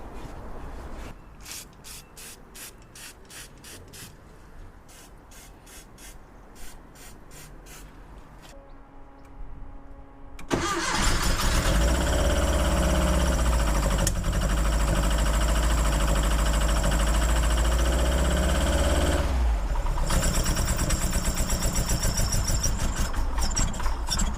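Quiet rhythmic cranking and clicking, then a Porsche 914 engine with dual Weber carburetors catches and roars into a loud, steady idle that continues with a brief dip near the end.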